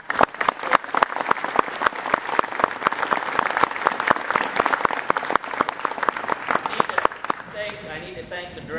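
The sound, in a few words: audience applause at honor band concert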